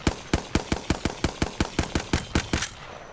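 A Hemlock rifle in a video game fires in single-fire mode: about fourteen sharp, evenly spaced shots in quick succession, each a punchy crack with a short tail, close and loud, then it stops.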